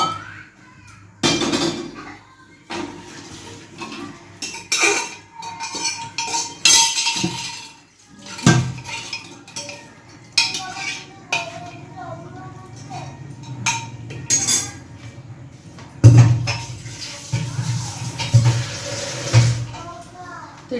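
Dishes and cutlery clink and clatter as they are set into water to soak in a home kitchen after cooking, with scattered knocks and splashy washing sounds under intermittent talk and background voices.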